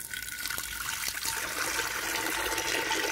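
Water poured from a vessel into a cooking pot set on a village stove, for a Lahori chikar cholay chickpea dish; a steady, continuous splashing pour fills the whole clip, moderately loud and unaccompanied by talk.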